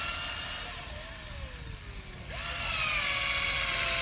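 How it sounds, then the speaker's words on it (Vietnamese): A power drill bores into the trunk of a smooth-barked red sandalwood tree, its motor whining steadily, sagging in pitch as the bit loads up, then surging louder and higher as it runs on, close and with no talk. "Đây khoan kiểm tra một cây nhẵn vỏ đây."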